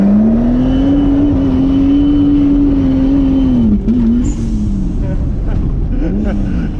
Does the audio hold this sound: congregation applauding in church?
no